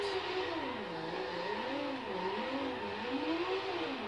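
Car engine revving steadily in a driving video game during a manual-clutch drift, the pitch rising and falling in smooth waves as the throttle is worked, loud and continuous with no talk.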